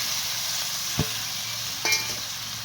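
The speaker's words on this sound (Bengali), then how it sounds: "দিয়ে এভাবে নাড়াচাড়া করে" Taro leaf curry with chili cooking in a pan, a steady hiss of sizzling with two brief stirring scrapes, close, with no voices.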